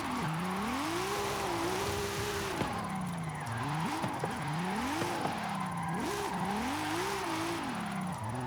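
A front-wheel-drive drift car in Forza Horizon 5 revs and accelerates, its engine note rising and falling in repeated wavering surges with tire squeal, steady and fairly close throughout.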